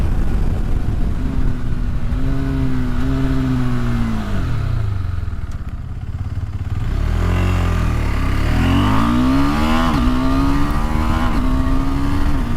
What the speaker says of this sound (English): feeling that acceleration out of this 373cc engine